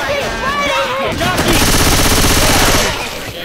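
A shotgun in a video game fires as a rapid burst of loud blasts, mixed with other game sounds and a short shout at the start.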